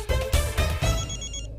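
A telephone rings in a TV serial scene, a trilling bell pattern that repeats in short pulses, close and fairly loud, with no talk over it.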